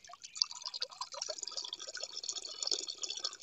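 Spring water flows up from underground in the mountains of Uttarakhand, a faint, steady trickle and splash with no one speaking.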